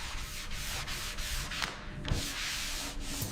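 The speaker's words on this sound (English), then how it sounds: "Hours of sanding." A car body panel smoothed over body filler is sanded by hand, a rhythmic rasping rub in repeated back-and-forth strokes roughly every half second, close and moderately quiet.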